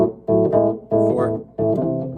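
Early-style Chicago blues electric guitar over the 5 chord: three short strummed bursts with brief gaps between, a close, clean amplified tone with no other sounds.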